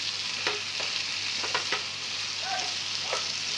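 Chilli paneer with black pepper sizzles steadily in a pan, with a few scraping stirs from a spoon breaking through the frying hiss and no one speaking.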